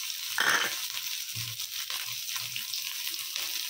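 Beans, capsicum and onions sizzle in hot oil in a pan for egg fried rice, giving a steady broadband frying hiss with a few louder scrapes and stirring bursts near the start.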